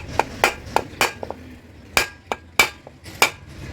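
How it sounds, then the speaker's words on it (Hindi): A metal hammer taps the rim of a pressure cooker lid in a series of sharp, ringing clinks, irregularly spaced, close and fairly loud. "जब हम कुकर का जो है किनारा हथौड़ी से डाउन करते हैं"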